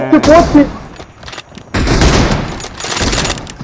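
Gunfire in the mobile battle-royale game BGMI (PUBG Mobile) during a room match: a voice speaks at first, then dense bursts of automatic fire ring out loud and sustained through the second half.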